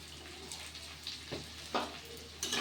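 Sliced onion with a pinch of salt fries quietly in a pan, a soft, low sizzle broken by a few scraping stirs, heard close and fairly faint with no talking.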